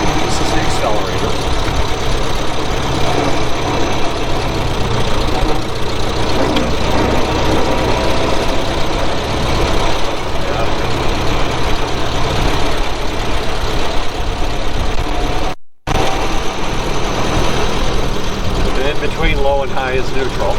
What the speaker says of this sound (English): soon as you turn on the key, it'll start